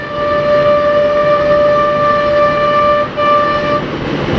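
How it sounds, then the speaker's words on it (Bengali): A vehicle horn blares on a Bangladeshi road, a loud steady electric tone held for about three seconds, cutting out briefly and then sounding again, with traffic rumble underneath. "ওনার সামনে কোনো গাড়ি নেই, শুধু শুধু হর্নটা দিল"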